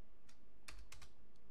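A computer keyboard typed on at a terminal, giving a few quick, faint, close key clicks in short bursts against quiet background hiss.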